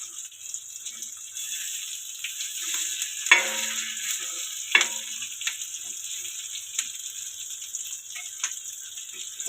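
Halwa fish pieces fry crisply in a pan after being flipped, giving a steady, close sizzle with a couple of sharper crackling pops partway through and no talking.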